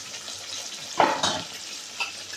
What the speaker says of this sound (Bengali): দিয়ে এবার মশলাটা থেকে দইটাকে একটু কষিয়ে নেব হালকা